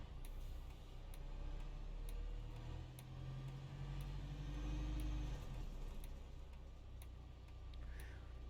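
A bus in the OMSI 2 bus simulator game pulls away, its low engine rumble swelling and easing under a steady, regular ticking like an indicator, fairly quiet and without talk.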